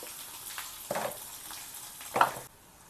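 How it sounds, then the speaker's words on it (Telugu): Garlic fries in a pan with a faint, low sizzle and two short bursts of louder crackle and scraping, then the sound drops away at the end. "వెల్లుల్లిపాయలు వేగిపోయినాయి."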